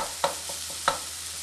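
Garlic, ginger and oil sautéing in a pan: a soft, steady sizzle broken by two sharp utensil knocks against the pan, close and fairly quiet.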